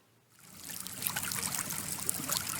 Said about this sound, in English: the one I like is this brook sound